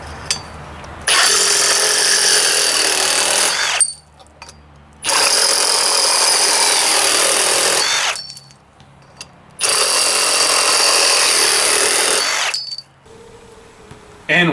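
Milwaukee M18 FUEL 2720-22 cordless Sawzall with a thin kerf blade cuts through electrical conduit in three loud, sustained bursts of harsh buzzing rasp, separated by brief pauses.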